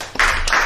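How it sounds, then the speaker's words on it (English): A short burst of studio applause for a guest being introduced at the start of a talk show about a valley food market, a dense clatter of claps that swells in quickly and holds steady to the end. "I love the applauding at the end"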